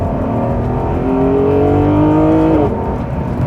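A Ferrari GTO engine drones steadily on twisty back roads, a loud close-up note holding and slowly climbing in pitch before a brief shift near the end, with no talk over it.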